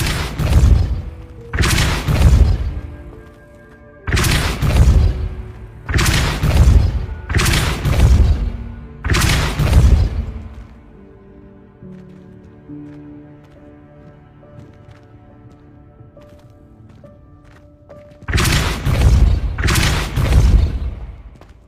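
Repeated Depulso spell casts from Hogwarts Legacy, each a loud, punchy magical blast with a booming thud, firing in a quick burst of five or six, then a quiet stretch, then two more close together near the end.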